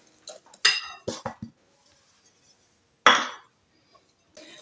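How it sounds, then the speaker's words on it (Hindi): Ground sugar is mixed into eggs in a bowl for cake batter, heard as a close series of short clinks and scrapes of a utensil against the bowl in uneven bursts separated by quiet gaps. "ये 1 कप जो है चीनी है, इसको भी अच्छी तरह से अंडों के साथ मिक्स करते जाना है।"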